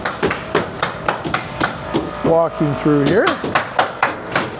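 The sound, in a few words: construction noise from framing the second floor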